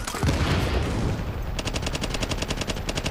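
Police T821 rifle in The Division video game fires a rapid, steady string of loud shots. Dense game effects and noise sit under the burst.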